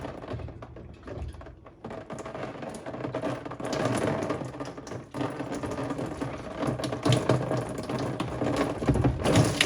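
A plastic 20-inch Big Blue sediment filter housing is twisted loose by hand, giving a steady close-up grinding, ratcheting rattle of threads that builds and continues throughout.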